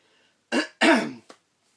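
Sharp coughs and throat clearing from one person indoors, three quick bursts close to the mic, the middle one longest, then quiet.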